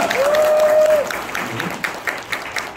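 Audience at a business lecture breaking into dense applause, strongest at first and then thinning, with a long whistle-like tone early on and some voices underneath.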